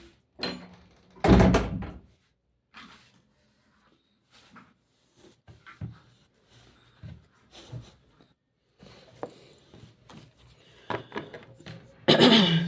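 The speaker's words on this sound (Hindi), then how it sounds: "एक मिनट ज़रा मैं ये दरवाज़ा बंद कर दूं" An indoor door is pushed shut with a loud, close thump near the start. Quiet shuffling and small knocks follow, and a second heavy bump comes at the very end.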